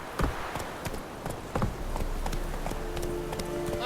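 The Witcher 3 horse Roach galloping, rhythmic clip-clop of hooves pounding at a quick steady pace, close and loud, with game ambience underneath.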